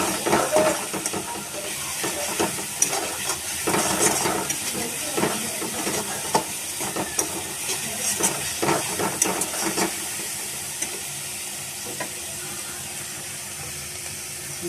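Spices fry in a pan for a Bengali fish curry, making a steady sizzling hiss with irregular scraping stirs that is busier for the first ten seconds and then settles into a softer hiss.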